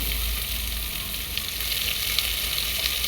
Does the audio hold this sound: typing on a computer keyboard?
no